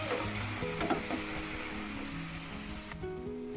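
Chopped tomato sizzling in a pan of sautéing onion and garlic, a steady close frying hiss that runs throughout with a few soft stirring touches, no speech.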